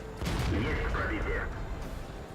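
A tank's main gun fires once with a heavy blast in World of Tanks, an Object 430 II battling on the Himmelsdorf map, followed by a long rumbling decay and low murmuring voices underneath.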